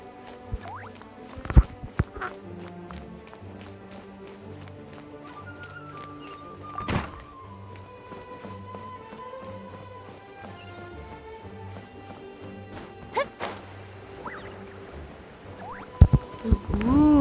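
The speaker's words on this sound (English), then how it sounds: "Ooh, the secret door." A secret door grinds open in Genshin Impact with several heavy stone thunks and knocks over a steady hum of game music and ambience, loudest near the start and end.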